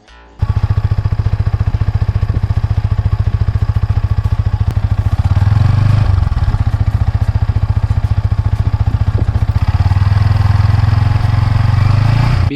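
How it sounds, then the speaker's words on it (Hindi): A Yamaha R15 V4 M Monster Edition motorcycle starts and idles close by with a steady, rapid exhaust putter, blipping the throttle twice into brief louder revs. "आप देखते हैं इसका एग्जॉस्ट नोट कैसा है।"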